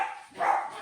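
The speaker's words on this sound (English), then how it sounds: "Excuse our dogs." Household dogs bark indoors in a short, loud, close burst, with a brief dip before a stronger second bark.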